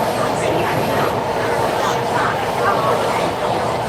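Steady rumble of a train running on rails during a ride home, a continuous loud rolling roar with broadband hiss and no distinct clacks or breaks across the whole stretch.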